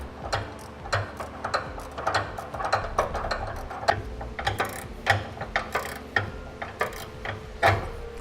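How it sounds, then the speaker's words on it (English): A ratchet with a 13mm socket tightens a locking flange nut on a fifth wheel trailer hitch on a 2010 Chevrolet Silverado, giving a quick series of close, clicking pawl ratchets in uneven strokes, with no talking. "Now we can use a 13mm, and we just want to tighten that down so it's snug."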